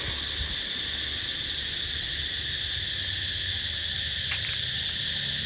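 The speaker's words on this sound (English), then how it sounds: "That's just all insects, I think, making that sound." Insects at night in Thailand in the rainy season: a dense, steady shrill of cricket-like chirping fills the background, constant and fairly loud, over a low rumble of distant noise, with one brief sharp click near the end.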